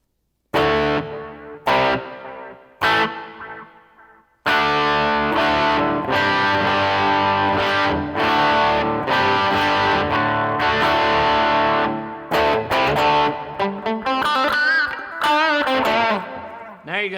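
Electric guitar played through a Line 6 Pod Express with the plate reverb setting, sounding distorted as chords and single notes ring out with spacious, sustained tails between short breaks, loud and close, ending in quicker picked phrases.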